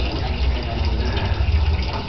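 Water gushes steadily into an old washing machine, 27 years old, being used to wash clothes in the Philippines, a loud continuous rushing fill with no pauses.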